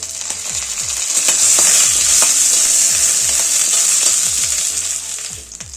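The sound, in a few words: curry leaves added to hot oil, sizzling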